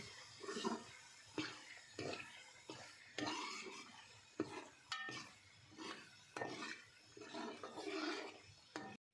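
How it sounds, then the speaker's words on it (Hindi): A spoon scrapes and knocks around a pot of lentils and spinach in irregular bursts of stirring, with soft clinks and thick, wet sounds of food being mixed. "अब इसमें दाल शामिल कर देंगे। साथ ही मसाले शामिल कर देंगे और मिक्स करेंगे।"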